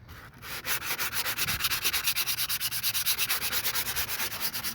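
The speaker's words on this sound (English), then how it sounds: "sand all this down, and away you go." Wet sanding the paint on a 1997 Mustang GT by hand, a steady rhythmic rasp of back-and-forth strokes, close and fairly loud, with no talking.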